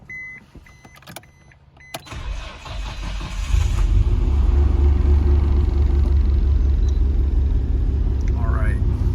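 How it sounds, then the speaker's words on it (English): A 1996 Nissan R33 GT-R cranks and fires on a cold start, a few clicks and a brief whirr giving way to a loud, steady idling rumble that holds to the end. "We've got this 1996 Nissan R33 GT-R. I'm going to do a cold start video for you."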